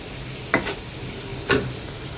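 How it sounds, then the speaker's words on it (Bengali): Pabda fish do-peyaji cooks in a pan, giving a steady sizzle and hiss throughout, broken by two brief scraping stirs about a second apart, with no talking. "আর এখানে রান্না বসাই দিছি এই যে পাবদা মাছের দু পেঁয়াজি।"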